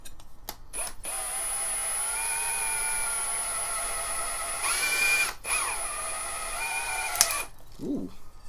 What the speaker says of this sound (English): I'm going to try to use the drill.